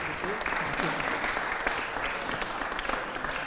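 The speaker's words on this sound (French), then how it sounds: "On peut applaudir très fort Jacques, déjà, c'est bien." Audience applause for the winner of a pastry competition, the Cercle des Pâtissiers dessert contest, a steady crackling spread of clapping held throughout with voices mixed in underneath.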